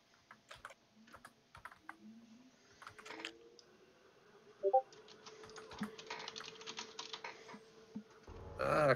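Keyboard typing during a tabletop role-playing game session, a quiet run of light clicking keystrokes in irregular bursts over a low room background, with no talking.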